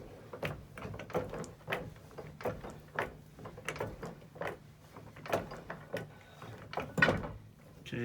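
A Motomaster floor jack is pumped up by hand in a steady series of quiet mechanical clunks and clicks, roughly two strokes a second, close by and faint.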